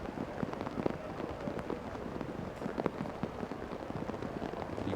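Torrential rain pouring over a rugby pitch during a Hong Kong versus Philippines match, a dense, faint hiss of falling water with scattered sharper spatters and no voices.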